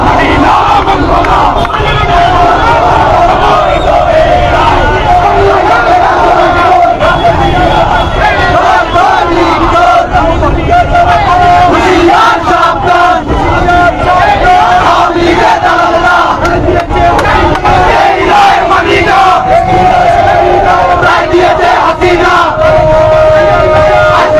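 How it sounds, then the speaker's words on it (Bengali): A large rally procession crowd in the streets of Sylhet, made up of Chhatra Dal, Jubo Dal and Swechchhasebak Dal activists, chanting political slogans loudly and continuously in massed rhythmic voices, close and sustained. "এমনকি ওনাদের স্লোগান শুনুন"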